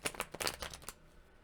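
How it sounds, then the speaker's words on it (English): A deck of cards being shuffled close by, a quick riffling burst of crisp flutters for about a second before it settles into quiet. "Okay, here we go. Last shuffle."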